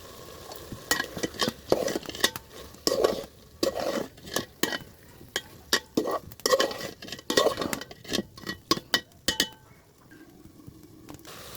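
Lentils and vegetable stems frying in a pan, with a spatula scraping and clinking in quick repeated strokes over a soft sizzle, close by, easing off near the end.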